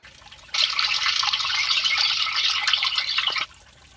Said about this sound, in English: Here's the first time the tank is filled with water.